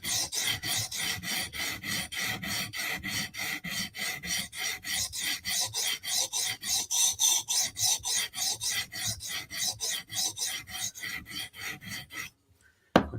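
A Vero Synapse blade is sharpened by hand on a sharpening stone, giving a steady rasping rhythm of about thirty even strokes, close and fairly loud, before the scraping stops and the clip falls silent.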